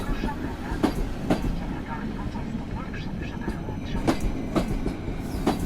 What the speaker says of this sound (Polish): Marszałek Piłsudski rusza dalej zaledwie 6 minut opóźnienia